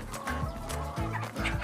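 Hens on a Korean poultry farm cluck in a quick, soft, repeated series, close by and alone with no talk.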